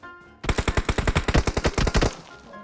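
Rapid burst of automatic gunfire in the battle royale game PUBG Mobile, about sixteen evenly spaced shots fired in quick succession, loud and close, with no talk over it.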